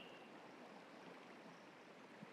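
Water flowing steadily in Escape From Tarkov near a sunken village, a constant broadband rushing wash like a stream, even and unbroken throughout, heard alone at low level.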